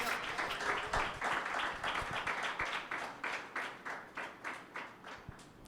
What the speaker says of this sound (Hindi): जोर से तालियां बजाएं।